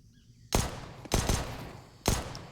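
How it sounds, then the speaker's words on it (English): Three loud warning gunshots in Counter-Strike during an ESL Pro League match, each a sharp burst with a short ringing tail, spaced roughly half a second to a second apart, with no voices. "Just some warning shots here."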